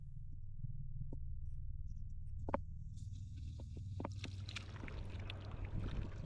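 Boat engines idle at anchor with a low, steady hum throughout, quiet and continuous, while small clicks and knocks sound on board.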